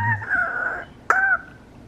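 A pet parrot gives two loud, harsh screeches close up, the first drawn out for most of a second and the second shorter and sharper after a brief pause.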